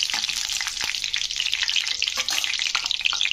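Crushed cardamom and bay leaves fry in hot oil with a steady, crisp sizzle and small crackles, close and fairly loud, with no voices over it.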